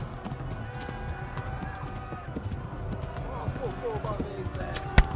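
Rapid hoofbeats clatter steadily throughout, like a horse galloping in the video game Kingdom Come: Deliverance, with a sharp click near the end.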